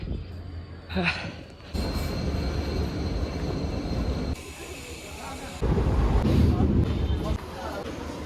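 A train rolls past a railway crossing in Assam, a steady loud rumble of wheels and cars that shifts in intensity as it goes by, with brief bursts of louder clatter partway through.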